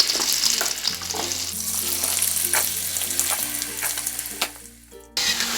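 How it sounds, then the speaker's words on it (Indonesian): Diced potatoes fry in hot cooking oil for a beef-liver sambal goreng dish, giving a dense, steady sizzle with crackling pops and occasional stirring, accompanied by a low background hum. "Kita panaskan minyak goreng secukupnya. Setelah panas kita masukkan kentang yang sudah dipotong dadu tadi."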